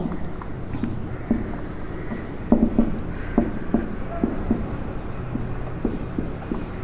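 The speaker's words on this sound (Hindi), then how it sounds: "मैं यहाँ पे सेंटेंस लिख देता हूं" Chalk taps and scrapes on a board as a sentence is written out, a string of short, close strokes in an irregular rhythm over a faint background hum.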